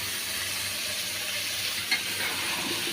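Washed, cut cucumber pieces hit a hot pan with spices and sizzle steadily, a continuous near hiss with a brief clink partway through and no voices.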